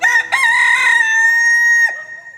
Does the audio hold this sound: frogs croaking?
no